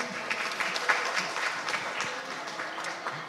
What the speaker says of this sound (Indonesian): Boleh kita beri aplaus sekali lagi?